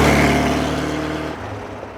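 1972 Porsche 914 mid-engine car driven at around 3,000 RPM, a loud engine hum with a clear steady pitch that fades and softens after about a second and a half.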